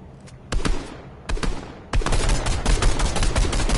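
Rapid gunfire in the video game Fortnite: a few short bursts, then a dense continuous stream of loud, sharp shots.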